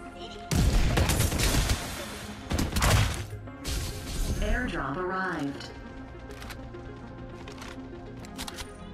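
AK rifle fire in the online shooter Farlight 84, loud bursts of close gunshots with booming impacts and game effects, then quieter distant shots, while a player talks throughout.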